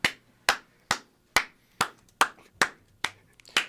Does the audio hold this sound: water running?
no